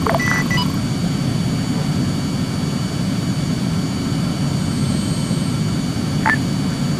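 Rescue aircraft lifting off from a crash zone in the military game Arma 3, a steady low engine roar and rumble held throughout at a constant loud level, with a couple of brief higher tones on top.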